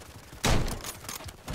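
A light machine gun fires in the Call of Duty Modern Warfare 3 video game, a loud burst of rapid shots followed by quieter scattered cracks.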